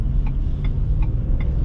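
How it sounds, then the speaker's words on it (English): Ford F-150 XLT V8 from 2021 droning steadily from inside the cab while driving near 70 mph at around 4,000 RPM, a low continuous engine rumble with a few faint clicks, no talking. "a little bit of V8 noise"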